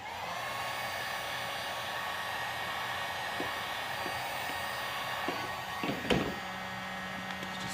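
A heat gun blows a steady, even airflow hiss while warming vinyl wrap film on a BMW F30 328i side mirror cap, with a few light handling taps near the end.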